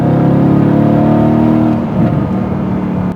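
A Mercedes-AMG GT S front-mounted twin-turbo V8 revs hard and holds a high, buzzing note, then drops off, with a crackle near the end.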